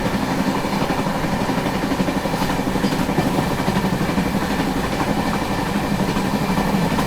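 A passenger train runs along the track with a steady rumble and rhythmic wheel clatter, heard continuously from close by with no break.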